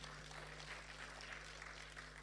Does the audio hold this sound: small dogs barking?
no